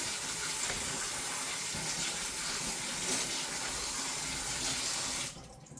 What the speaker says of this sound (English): Just rinse it with water until it's all cleaned out.